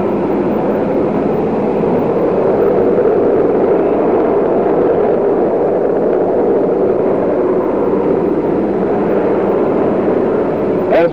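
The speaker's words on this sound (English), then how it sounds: "As the recovery helicopter comes in" A loud, steady engine roar with a dense low rumble holds throughout from a recovery helicopter approaching during the 1971 Apollo 15 splashdown recovery, with no clear voices.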